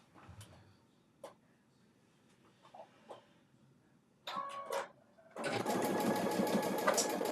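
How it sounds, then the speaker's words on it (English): A sewing machine stitching two fabric rows together, starting after some quiet handling clicks and brief bumps, then running steadily and loudly for a couple of seconds at close range. "let me sew this part. Let me sew the 2 rows together."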